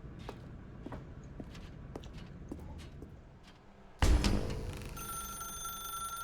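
In The Stanley Parable, footsteps tap through a quiet room before a loud telephone bell suddenly starts ringing, a bright, continuous electric trill that dominates the rest of the clip.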